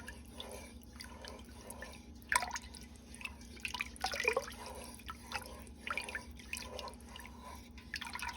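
Soft, wet clinks and sloshes of a utensil stirring French onion soup in a pot, irregular and fairly quiet over a constant kitchen fan hum.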